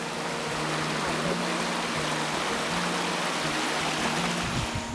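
The Mula river flows along a trekking route through the Ratangad–Harishchandragad range, making a constant, close rushing of water that fills every moment without pause or voices.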